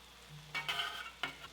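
Pancetta, rosemary and thyme being mixed into a rabbit braise with garlic in a pan, a couple of quiet scraping strokes of a utensil against the pan over a faint sizzle, close but soft, with no talk.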